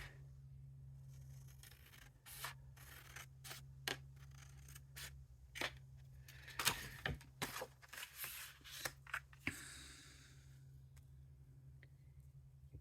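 Scissors snipping through card to size a mat for handmade card layering, a faint run of short sharp cuts and rustles, sparse at first and then quicker, over quiet room noise.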